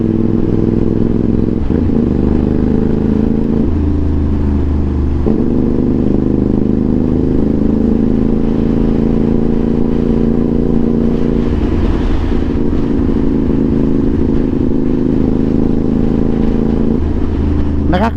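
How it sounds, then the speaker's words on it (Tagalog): CFMoto 450SR motorcycle engine while riding on a road trip, a loud, continuous low drone with shifting revs and gear changes, heavy wind rush over it. "Medyo maingay ang tunog ng ating motor."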